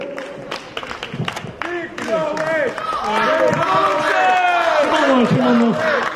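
A crowd at the Mateusz Kowalczyk vs Mariusz Piwowar event claps loudly, and the applause grows fuller toward the end, with lively voices shouting and cheering all through it.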